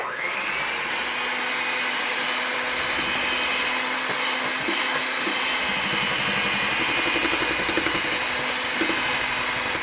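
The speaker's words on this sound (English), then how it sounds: "I'm going to cream the eggs together." Electric mixer creaming egg yolks for a cocoa roll, a continuous steady whirring motor hum held for the whole stretch, close and fairly loud, with no voices.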